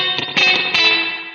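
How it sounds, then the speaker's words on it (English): A Line 6 DL4 MkII pedal with spring reverb applied to electric guitar, short chords ringing into a springy, slightly metallic wash that trails off over about a second, heard alone with no voices. "It doesn't sound as good as a real spring reverb,"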